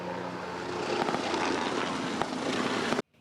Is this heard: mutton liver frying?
no